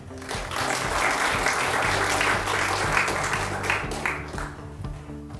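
An audience at a regional economy revitalization forum on local population decline applauds to welcome the acting president of the Korea Research Institute for Local Administration. The clapping is full and sustained over steady background music, easing off toward the end.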